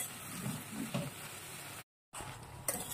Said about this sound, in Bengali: মশলার সাথে হলুদের সাথে আমটা ভালো মতো নেড়ে চেড়ে মিশিয়ে নেব। এটা কিছুক্ষণ তেলের মধ্যে কষাবো।